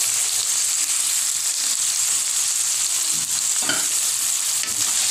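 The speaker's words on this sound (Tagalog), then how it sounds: "Pagpakbet, gisa-gisa lang." Ginger sautés in a hot pan for pinakbet, a loud, close, continuous sizzle with soft stirring scrapes running through it and no talk.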